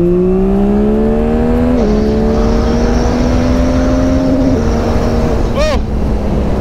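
Two motorcycles, an Indian FTR1200 and a Yamaha MT-09 SP, roar at full throttle side by side, engines climbing steadily in pitch with a brief gear-change dip, loud and close throughout.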